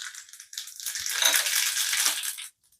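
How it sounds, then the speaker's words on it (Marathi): Mustard seeds hitting hot oil in a tempering pan for cucumber koshimbir, a dense crackling sizzle that builds quickly, stays busy for about two seconds, then stops abruptly. "नंतर आपण मोहरी घालणार आहे।"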